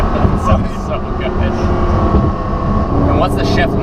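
A Porsche Carrera GT's engine runs close by, a loud, dense, continuous roar that holds steady for several seconds.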